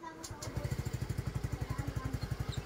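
A Yamaha Mio Gear scooter engine starts with a brief crank and catches, then settles into a steady, rapid thumping idle, close and fairly loud, with no talk over it.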